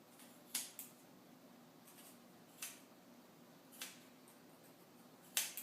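Scissors snip through a felted wool cover wrapped around a rock: a handful of faint, sharp, close crisp cuts spaced irregularly over a quiet background.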